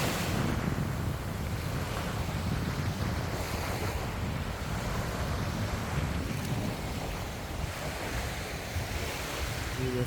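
Waves rolling in at Haad Salad, also called Pirate Beach, on Koh Phangan, Thailand: a continuous low roar of surf with steady wind buffeting the microphone, loud and unbroken, with no voices.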